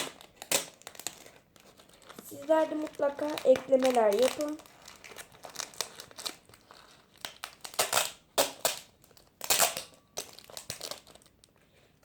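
Paper is crumpled and crinkled in repeated bursts close by for stuffing a craft, while a person talks briefly in between.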